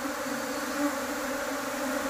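A swarm of honeybees gives a dense, steady buzzing drone, close and continuous throughout.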